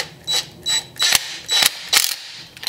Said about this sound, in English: my impact driver on there